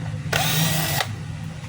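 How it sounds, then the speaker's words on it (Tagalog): A power tool whirs steadily for about three-quarters of a second as it backs a screw out of the housing of a DeWalt D25811 5 kg jack hammer during repair, close and loud over a low hum. "Tatanggalin ko lang yung screw"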